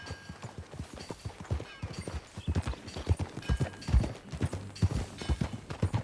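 Horse hooves clip-clop steadily in Red Dead Redemption 2, a close, even rhythm of hoof strikes on the ground that continues throughout, with faint ambient sound beneath.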